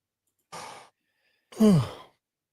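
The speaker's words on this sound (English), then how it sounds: "That was the fakest yawn ever." A person's exaggerated fake yawn during a live sports reaction stream: a short breathy exhale, a pause, then a louder, longer drawn-out yawn sound with a falling pitch, close and alone.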